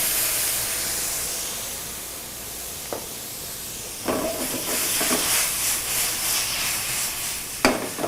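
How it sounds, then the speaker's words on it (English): Pinot Grigio white wine is poured into a hot pan to deglaze it, giving a steady steamy hiss with sharper sizzling bursts as the liquid hits, no talking. "I'm going to deglaze the pan with a little bit of white wine, and I'm using a Pinot Grigio."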